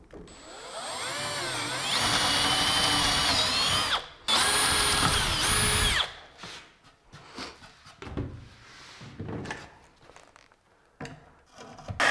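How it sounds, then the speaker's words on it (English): A power drill whines loudly for several seconds as it bores out the corners of an IKEA kitchen cabinet, then stops; a few short rubbing and scraping noises follow. "I like to just drill each corner out with the drill"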